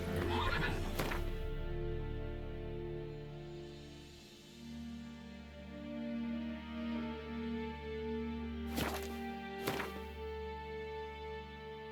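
A horse neighs in the video game The Witcher 3, a long, loud whinny with a shaky, falling pitch, followed by a couple of sharp snorting bursts near the end.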